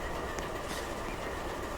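An MSRX freight train passes with its locomotives, including an ex-BC Rail C40-8M and a Detroit Terminal Railroad heritage unit, in a continuous loud rumble with clattering wheels and a faint squeal.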